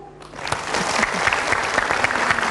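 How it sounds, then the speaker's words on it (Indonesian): Women of a Majelis Taklim religious study group are applauded, a brief, steady wash of many hands clapping rising quickly after a short amplified voice. "boleh tepuk tangan untuk ibu-ibu dari Majelis Taklim Asyaja'atun Mardiyah"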